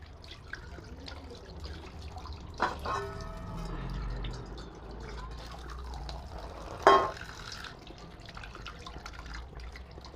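Tap water runs and splashes while pomfret and Bombay duck fish are washed in a sink, a low steady trickle with a couple of louder splashes near the middle and later.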